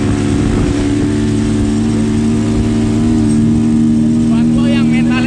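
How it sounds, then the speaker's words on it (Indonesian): A motorcycle climbs the slopes of Mount Sindoro with a loud, steady engine drone that fills the whole stretch, close to the rider and continuous throughout. "jangan sampai naik motor ini."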